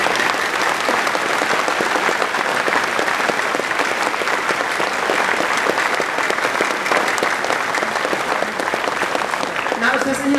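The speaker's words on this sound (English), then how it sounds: "I really want an applause for you." Loud, steady applause from a large audience at a furry convention opening ceremony, a continuous wash of many hands clapping that holds at full strength throughout, with a brief voice near the end.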